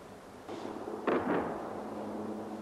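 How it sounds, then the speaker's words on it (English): A bomb dropped during the Falklands conflict bursts as distant, muffled blasts. A soft thump is followed by a sharper double boom over faint background noise. "Just seen a bomb drop"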